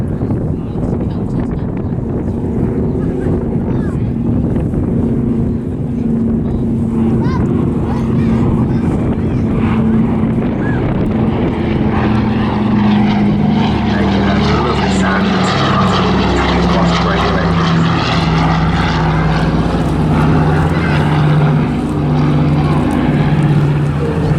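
Douglas Dakota with twin air-cooled double-row radial engines flying past at an airshow, a loud steady propeller drone with a slowly shifting pitch as it passes, continuous throughout with a voice commenting over it.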